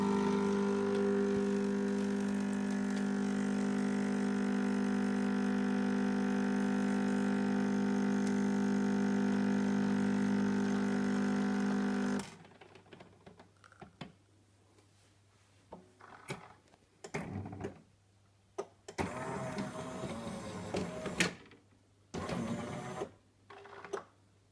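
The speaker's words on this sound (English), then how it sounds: "So there you go, that's your espresso." A Jura Impressa J90 coffee machine brews espresso with a loud, steady mechanical whir and pump hum for about twelve seconds, then stops and gives way to scattered clicks, drips and brief hisses close by.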